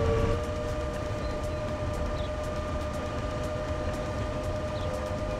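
A train running along track in the video game Transport Fever 2, a steady rolling rumble with faint periodic clicks and a sustained tonal hum, no voices.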